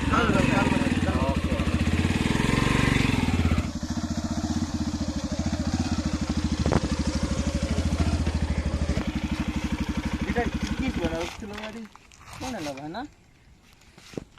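A motorcycle engine runs close by with a steady, rapid idling throb while people talk over it; the engine note drops partway through and fades out near the end as voices continue.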